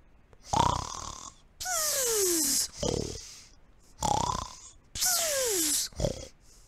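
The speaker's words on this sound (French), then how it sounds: "nos trois amis, le lièvre, le rat et le castor, ronflaient tranquillement, blottis, tout en rond." Cartoonish snoring from a hare, a rat and a beaver curled up asleep in a storybook, several long rasping snores with whistling descending exhales, alternating in a slow rhythm, close and fairly loud.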